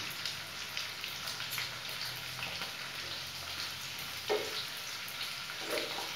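Onions go into hot oil in a pan while making paneer chilli, and a steady, even sizzle hisses throughout, faint but constant, broken by a soft clatter near the end.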